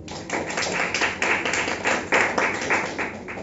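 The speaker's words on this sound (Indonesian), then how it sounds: "Kasih tepuk tangan bagi Tuhan kita" Church congregation clapping together during a Sunday worship service at GBIS Kapernaum Surabaya, a steady run of fairly rhythmic claps from many hands, moderately loud and close, with no talking over it.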